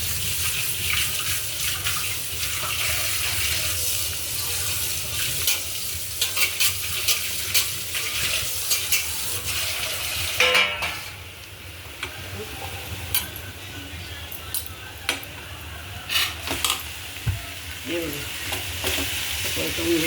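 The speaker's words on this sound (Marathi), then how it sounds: "परतून घ्यायचा चांगला." Fresh jawla is sautéed in a pan with constant stirring: a steady sizzle and frying crackle runs throughout, broken by scraping spoon strokes and clinks against the pan. No one speaks.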